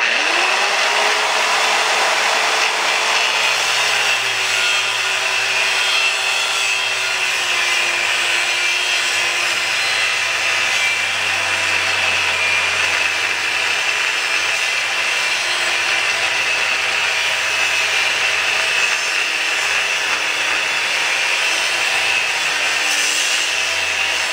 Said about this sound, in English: I can cut straight even though there's a slight arc there because I can always clean that up with the grinder